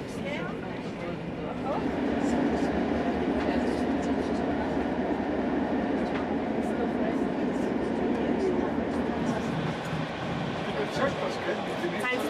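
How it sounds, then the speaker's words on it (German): A restored nostalgic train with salon carriages rolls along with a steady rumbling rail noise and faint clatter throughout, while a voice speaks over it. "Die nostalgischen Waggons waren sehr liebevoll restauriert"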